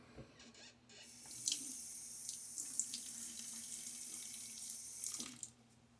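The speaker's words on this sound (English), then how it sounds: "Nice cool water." Cool water runs steadily from a faucet into a sink for several seconds, a continuous hissing splash at moderate level with no talking.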